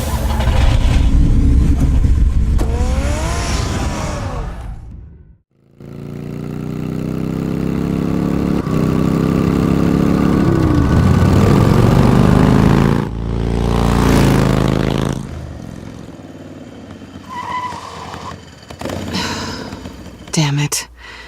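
A car engine runs at a steady mid-pitched idle in the Batman: The Telltale Series video game. The engine cuts out briefly, comes back and surges, with a gasp or sigh and some rustling mixed in.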